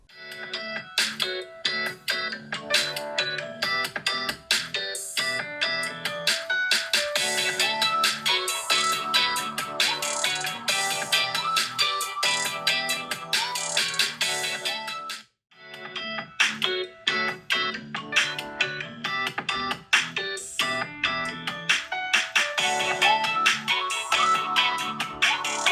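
A vivo iQOO 13 phone speaker plays back music as a loudspeaker test. The playback is loud and continuous, drops briefly midway, then resumes.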